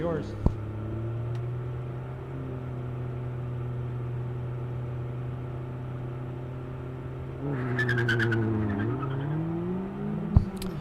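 Mazda Miata race cars at an SCCA ProSolo autocross, engines idling in a steady low drone before revving up sharply around the launch, with a couple of brief clicks and a voice present.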